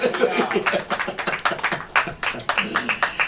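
A church congregation claps during an evening worship sermon, rhythmic but uneven bursts of many hands close by, with voices audible underneath.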